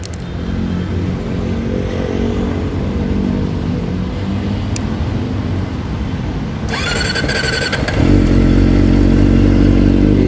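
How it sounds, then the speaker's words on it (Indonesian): Kawasaki ZX-25R motorcycle with an Over Racing aftermarket exhaust, a loud, steady idle hum that shifts partway through into a harsher, buzzier running note, close to the exhaust with no speech. "langsung aja kita cek sound, karena untuk knalpot over ini kita belum pernah buatkan videonya sob"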